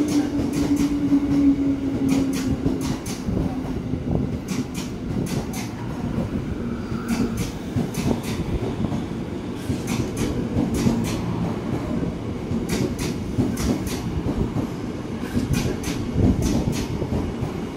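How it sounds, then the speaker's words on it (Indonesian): A KRL commuter train heading toward Bekasi rolls through a busy Jakarta station with a steady rumble and repeated clickety-clack of wheels over rail joints, loud and close throughout. "KRL arah Bekasi."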